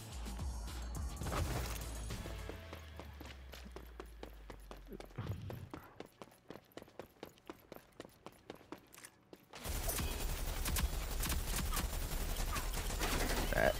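Rapid rhythmic gunfire and blasts from a shotgun and grenade in the Rogue Company shooter game, a burst of evenly spaced shots followed by a loud sustained explosion wash, with faint talk around it.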